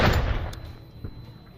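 A flashbang detonates in the tactical video game Door Kickers 2: one loud, close burst that quickly fades, leaving a thin high ringing tone over a low rumbling tail.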